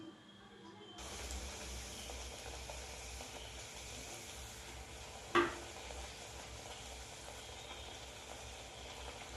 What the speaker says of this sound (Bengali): এবার লুচিগুলো ভেজে নেব কীরকম ফুলছে দেখুন সাবুর লুচি